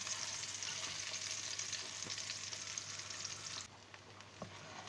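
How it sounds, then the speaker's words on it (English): Aubergine and potato pieces frying in a pan over medium heat for a curry, a close, steady sizzle with soft stirring scrapes that drops quieter near the end, with no voices. "So I've been frying them for a couple of minutes now."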